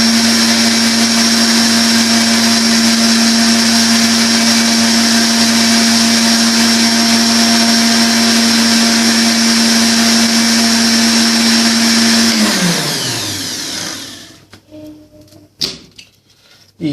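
A blender runs steadily for about twelve seconds, mixing homemade mayonnaise with vinegar in it, then winds down to a stop, followed by a few faint clicks and knocks.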